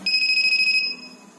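An Arduino door security alarm with an ultrasonic sensor sounds its buzzer: a loud, close, rapidly pulsing high electronic tone for nearly a second, then a fainter steady beep trailing off, with no talk.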